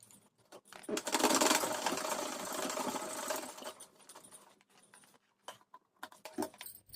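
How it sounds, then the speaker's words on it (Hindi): A sewing machine runs in one steady burst of about two and a half seconds while stitching a strap onto the centre front of a tube blouse. Then it stops, and a few light handling clicks and taps follow. "सेंटर पे इस तरह से रखेंगे और इसकी स्टिच कर देंगे 1/2 इंच जितना गैप में"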